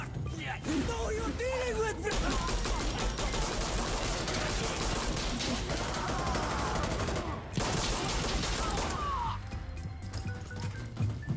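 Sustained, dense gunfire from an Insurgency: Sandstorm match, rapid overlapping shots filling the scene almost continuously, with voices calling out beneath the shooting.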